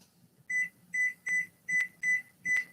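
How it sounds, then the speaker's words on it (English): A kitchen oven timer goes off while paleo lemon bars bake, giving six short, evenly spaced electronic beeps that ring out clearly over a faint low hum. "my timer's going"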